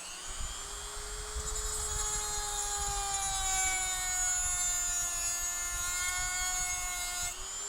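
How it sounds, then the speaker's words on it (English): A high-pitched power tool whines steadily while cutting off bolts on a 3D-printed PLA crossbow, its tone sliding slightly lower as it bites into the metal, with a rough rumble underneath. "we'll chop these bolts off quick"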